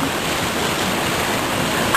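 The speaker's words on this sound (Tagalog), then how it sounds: "Ang falls na ito. At ang flow water na ito." Steady rushing water, a waterfall pouring into a flowing spring-fed stream at Lake Sebu, dense and continuous with no breaks.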